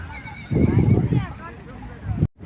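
Horse whinnying amid a crowded camel and horse fair in Dera Ghazi Khan, a strong burst in the first half over a bustling crowd murmur, with voices talking nearby throughout.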